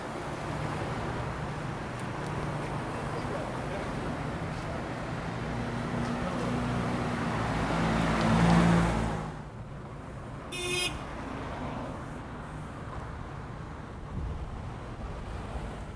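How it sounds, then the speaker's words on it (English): Cars arrive and drive past on a street, a steady rumble of traffic and whooshing passes that swells and cuts off, followed by quieter road noise and a brief short horn-like toot. "the cars are arriving fast and furious now"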